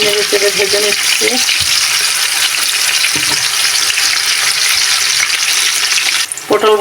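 Pieces of pointed gourd stirred while frying in oil: a dense, close crackling sizzle with brief clinks of a spatula against the pan.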